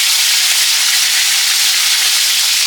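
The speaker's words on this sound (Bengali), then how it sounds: "তেল গরম হয়ে গেছে, এখন এক এক করে মাছ ভেজে নিব।" Pomfret fish frying in hot oil gives a loud, steady sizzle with dense crackling, close up and continuous, with no voices.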